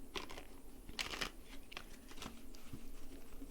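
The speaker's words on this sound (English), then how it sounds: "My goodness gracious, that was a shitty shuffle." Tarot cards being shuffled by hand, a quiet run of soft riffling and patting bursts with a low steady hum underneath, no talking.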